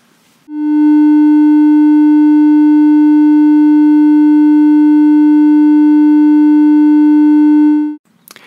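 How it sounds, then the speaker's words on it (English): A triangular-wave electronic test tone holds one steady pitch for about seven seconds, loud and clean with soft upper overtones, starting and stopping abruptly. "Another form of common waveform is the triangular wave. Again, this has its own distinctive sound."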